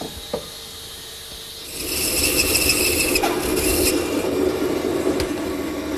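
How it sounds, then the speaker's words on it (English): A hand saw cuts a wooden chair leg in a miter box, a steady, loud rasping stroke that starts after a quiet knock and carries on near and alone. "Now I'll swing the miter box to 0 and make the final cut."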